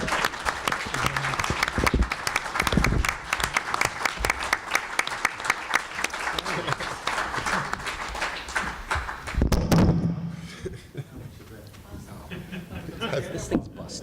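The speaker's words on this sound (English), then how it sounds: "A round of applause for the Ordster himself, Jerry Ordway." Loud, steady applause from a crowd at a comic book industry awards ceremony, dense clapping that runs for several seconds before thinning out into scattered claps and murmuring.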